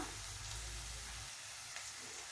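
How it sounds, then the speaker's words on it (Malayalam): Soft, steady sizzling of chopped tomato sautéing in a pan with light golden onions, a faint continuous hiss with a low rumble that drops away partway through. "ഇനി ഇതിലോട്ട് അരിഞ്ഞു വെച്ചിരിക്കുന്ന ടൊമാറ്റോ ഇട്ട് കൊടുക്കാം. നല്ലോണം വഴട്ടുക."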